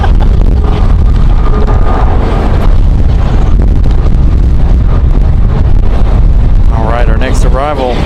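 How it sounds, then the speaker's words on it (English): Strong gusts of roughly 31 knots buffet the microphone at an airport plane-spotting spot, a loud continuous low rumble throughout, with a voice talking briefly near the end. "31 knot wind gusts, and I believe it because we're getting hit pretty hard too"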